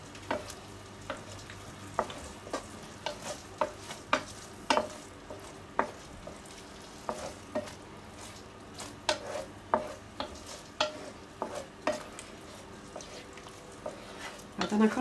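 Turkey risotto with almonds being stirred in a pan, a steady faint sizzle under irregular scraping and clinking of a utensil against the pan, close and moderately loud, with no talking.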